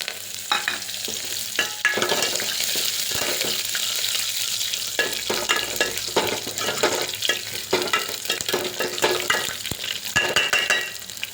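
Green chilies, dried red chilies and curry leaves fry in hot oil with a steady, loud sizzle, broken by repeated scraping stirs of a spoon against the pan.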